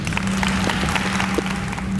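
An audience at a university Founders' Convocation at Pine Bluff applauds, a dense, continuous patter of many hands clapping at moderate loudness over a faint steady hum.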